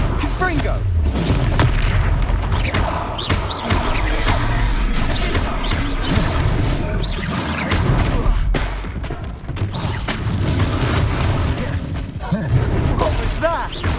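Repeated blasts of the Confringo fire spell in the Hogwarts Legacy video game, booming explosions and crashes layered over a dense, loud combat mix with voices talking throughout.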